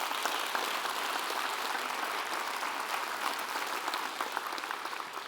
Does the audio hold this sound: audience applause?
yes